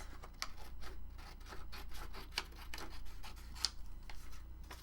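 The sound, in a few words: cutting paper for a junk journal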